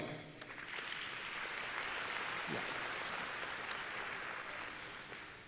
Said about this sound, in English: let's give Ennis a round of applause